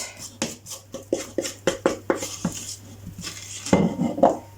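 A utensil scrapes bara brith fruit-loaf mixture from a bowl into a baking tin, giving a rapid run of sharp clinks and knocks followed by softer scraping and clattering.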